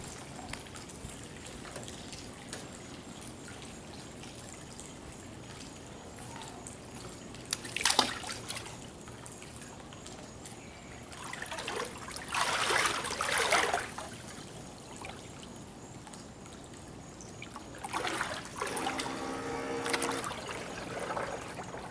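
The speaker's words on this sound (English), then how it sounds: "I'll drop it in the water, show you guys what it looks like" A 1/32 scale Type VII radio-controlled model submarine set into water, with soft splashing and trickling at intervals and brief louder sloshes against a quiet background, no talk.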